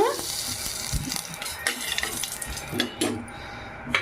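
A spoonful of ghee heats in a pan for vermicelli and sago payasam, giving a soft crackling sizzle mixed with scattered clinks and scrapes of a spoon against the pan, close by and uneven.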